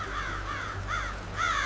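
A crow caws three times in harsh, rasping calls, fairly close and loud, with short gaps between them and no voices around.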